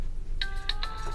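An office telephone rings in short electronic chirps, a few bright tones repeating quickly over a quiet room background.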